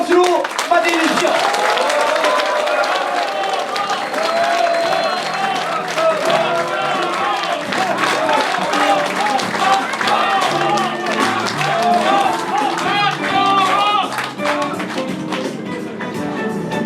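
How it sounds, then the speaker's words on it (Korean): An audience at the campaign office opening of a People Power Party National Assembly candidate in Daejeon's Daedeok district claps and cheers for about seventeen seconds, a dense, steady roar of hands and voices with music-like tones mixed in. "여러분, 박경호 후보를 힘찬 박수로 맞이해 주십시오"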